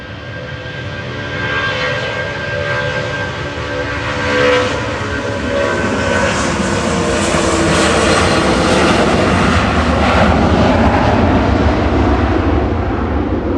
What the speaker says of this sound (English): departing in parallel is Jet2's LSAN to Zakynthos